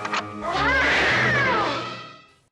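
A house cat in a B-movie scene lets out a single long, drawn-out meow that rises and falls, loud and close, with nothing else over it.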